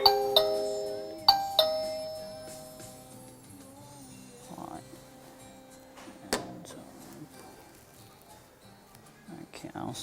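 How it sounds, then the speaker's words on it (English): A Tuya smart doorbell J5's wireless indoor chime receiver rings out with bright ding-dong tones at the start and again a moment later, ringing clearly and then fading, while someone talks quietly in between. "I have successfully paired the wireless indoor chime receiver with this smart doorbell J5."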